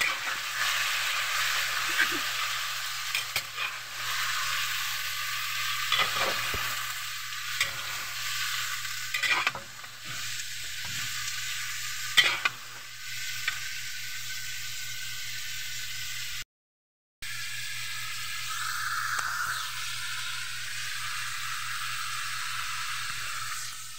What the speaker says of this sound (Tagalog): Haluin lang natin ng mabuti